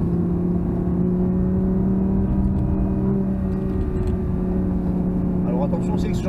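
An Audi R8 V10 engine droning steadily in a car on a race track, with a sustained tonal hum and a brief throttle blip near the end, as people talk over it.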